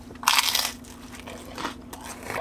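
Someone bites into the crust of a tomato pie pizza at De Lorenzo's Tomato Pie in Robbinsville, New Jersey, a loud, close crackling crunch followed by a second, softer crunch as they chew, with no talk.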